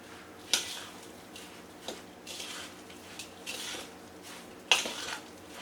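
Vegan longganisa mixture gets stirred in a bowl, giving soft wet squishing and a few sharp clinks of utensil against the bowl at irregular moments, close up with no talking.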